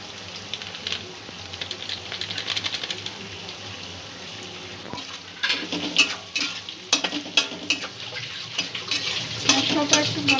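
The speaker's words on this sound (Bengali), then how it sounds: "মশলাটা একটু ভালো করে নাড়াচাড়া করে নেব।" Spice masala with cumin, coriander, chicken masala and chili powder stirred and fried in a pan for spicy prawn manchurian; a soft sizzle gives way to brisk, clattering scrapes of the spoon, close by.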